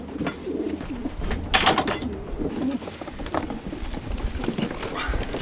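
Racing pigeons on a training toss, with wing flutters and soft cooing alongside light tapping and shuffling sounds, close by.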